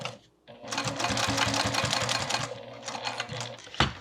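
A sewing machine top stitches across a recessed zipper closure on a bag, its needle running in a steady, fast mechanical clatter for a few seconds after a brief pause, then slowing and stopping near the end.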